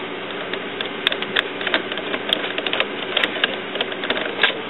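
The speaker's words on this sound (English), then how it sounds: "We can put the printhead back in the printer." A Canon inkjet printer with a continuous ink supply system, its printhead being seated back in, gives steady mechanical whirring with scattered small clicks and taps throughout, close and moderately loud, no talking.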